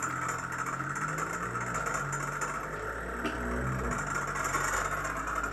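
A homemade Mendocino-style pulse motor nicknamed the Black Mamba runs with a steady mechanical hum and faint rattle, continuous and fairly close, with no voices.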